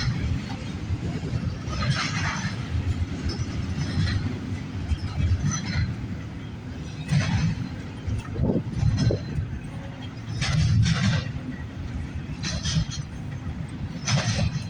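A CN freight train rolls past close by on a Sunday, a continuous loud rumble of wheels and cars with rattles and clanks throughout.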